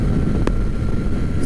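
A Kawasaki ZX-4RR motorcycle pulls harder in sixth gear from about 55 mph near 6,000 rpm, its engine a constant droning roar mixed with heavy wind rush.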